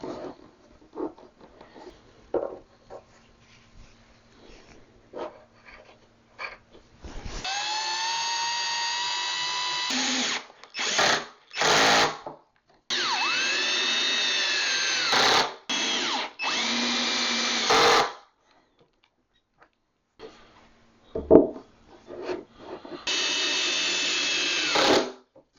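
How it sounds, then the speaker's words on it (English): A cordless power drill drives long bolts into an IKEA Kallax bookshelf in several bursts of steady whirring, some rising in pitch as it spins up, separated by quiet gaps with small knocks and handling noises. "Step 6, secure the top and bottom with the long bolts. There's an Allen wrench provided, but I ended up using my drill."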